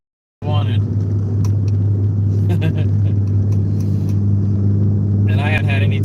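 A truck cruises down the road with a loud, constant low engine hum and road rumble heard from inside the cab, starting abruptly and running steadily while someone speaks intermittently over it.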